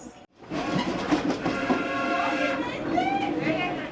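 A steam train rumbles along a railway toward a junction, a steady, fairly loud rolling clatter with a rising whistle-like tone near the end, heard close after a brief silence.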